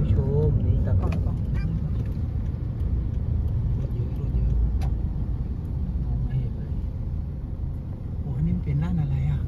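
Busy road traffic idles and rumbles at a red light, a low, continuous engine drone close by, with people talking over it in places.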